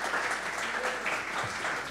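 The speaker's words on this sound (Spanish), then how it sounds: "gracias por el aplauso porque así me anima más" Audience applause for a talk by an artist, a soft steady patter of many hands heard at a distance and fairly quiet.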